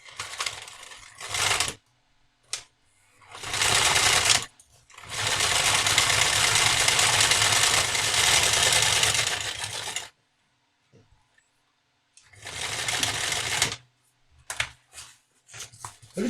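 A sewing machine stitches a zigzag seam on a small shoulder bag, running in several close, loud bursts of rapid mechanical chatter separated by short pauses.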